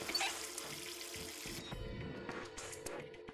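Water runs from the faucet of an old sink in a game infirmary, a soft, steady splashing stream that carries on evenly, fairly quiet and alone.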